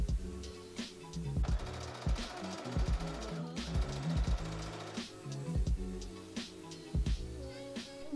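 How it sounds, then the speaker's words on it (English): A sewing machine runs French seams on organza puff sleeves, making a rapid, steady mechanical stitching whir in two bursts of a few seconds each. Rhythmic background music plays throughout. "So I'm going to just sew them wrong sides together first, cut the seam really short"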